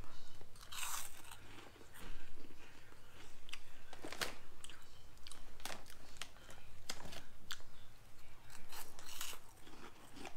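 Close, loud crunching and chewing of a very spicy tortilla chip from the one chip challenge, with repeated crisp bites and steady mouth noises throughout and no talking.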